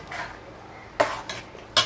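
A spoon scrapes and knocks against a pot as biryani masala with garam masala is stirred, a few sharp metallic clinks separated by quieter shuffling, close and fairly soft.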